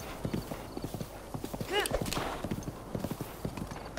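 Galloping horse in The Legend of Zelda: Breath of the Wild, with steady rapid hoofbeats, a brief neigh in the middle and people talking over it.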